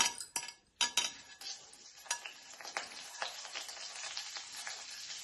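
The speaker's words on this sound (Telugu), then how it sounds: "ఆయిల్ వేడైంది. జీలకర్ర, ఎండుమిర్చి, ఆవాలు వేస్తున్నాను." Cumin, dried red chillies and mustard seeds hit hot oil in AMC cookware, a sharp opening burst of crackles and pops that settles into a steady close sizzle with scattered spits, and no talking.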